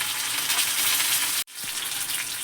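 Green chillies and cumin seeds frying in oil in a pan, a loud continuous hiss and sizzle close by, broken once by a brief sharp dropout before the sizzling resumes.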